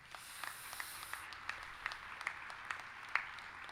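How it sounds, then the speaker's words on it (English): Scattered applause from a commencement ceremony crowd sounds faint and distant, with a handful of louder individual claps standing out above a soft hiss. "Let's have a round of applause for them."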